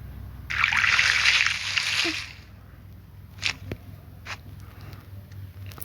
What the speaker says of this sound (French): On va arroser cette fleur.